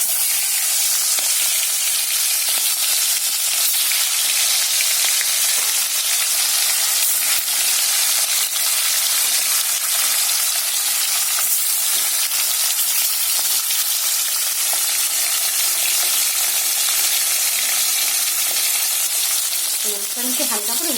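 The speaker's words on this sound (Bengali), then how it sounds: "তো তেলটা গরম হয়ে গেছে, আমি মাছটা ছেড়ে দেবো।" Salted hilsa fish pieces fry in hot oil with a loud, dense, continuous sizzle that holds steady throughout, close to the pan and with no voices.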